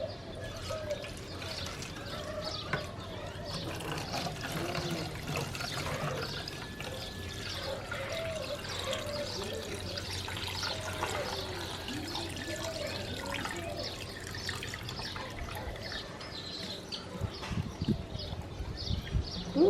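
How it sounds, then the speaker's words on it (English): Vinegar is poured into a container to cover the rusty metal parts of old pruning shears, a steady trickling and bubbling liquid sound lasting the whole stretch, close and moderately quiet. "I'm just gonna fill this container until all the hard metal is covered with"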